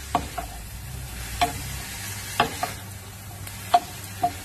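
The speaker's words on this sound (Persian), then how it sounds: "یه تفت کوچیک بدید تا زعفرون به خورد موادمون بره" Chicken stuffing is stirred in a pan after brewed saffron goes in: a soft, low sizzle with a few sharp spoon scrapes and taps against the pan, spaced about a second apart.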